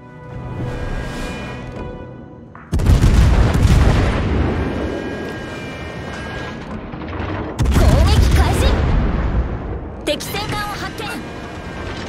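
Heavy naval gunfire from warships in World of Warships, two loud booming salvos with rumbling tails a few seconds apart, plus a sharper burst near the end, with voices talking over the game sound.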